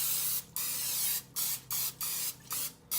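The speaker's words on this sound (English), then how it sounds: "Spray your pan good so it does not stick." Cooking spray hisses from a can onto a baking pan in a home kitchen, in about seven quick close bursts with brief gaps between them, heard alone.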